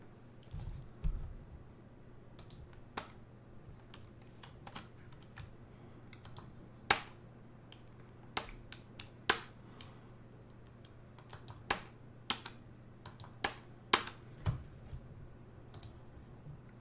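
Irregular keystrokes on a computer keyboard, close and crisp, come in scattered bursts of single clicks with pauses between them, over a low steady electrical hum.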